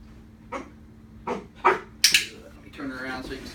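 A Giant Schnauzer puppy gives a few short barks and yips on command, spaced apart, fairly close, with some vocal sounds mixed in between them.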